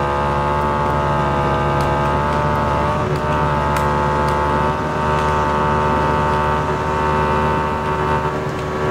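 Harley Davidson and Royal Enfield Bullet motorcycles on a race track, a loud, sustained exhaust drone with steady engine hum and no breaks, close up and continuous.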